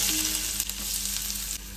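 Onion sizzles in hot oil in a kadhai with a dense, steady hiss, alongside cumin and garlic. The sound is close, with a brief low hum near the start and a slight dip in the frying noise just before the end.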